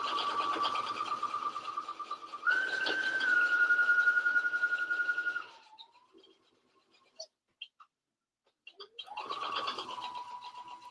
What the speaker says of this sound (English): So I get to the bottom, pivot, and then we're going to sew this seam.